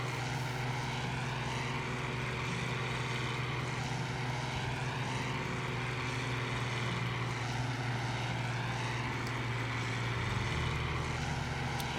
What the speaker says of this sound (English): this tractor has some get up and go